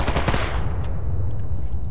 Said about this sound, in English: I don't know who you're shooting